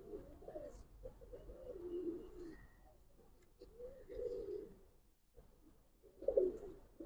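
Old-breed Giribaz pigeons coo in soft, low, throaty phrases that rise and fade in several rounds, quiet and close, with no talking over them.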